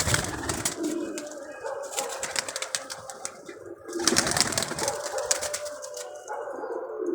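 A pigeon with clipped wings flaps hard in repeated bursts of wingbeats and coos softly between them, fairly close and with no talk.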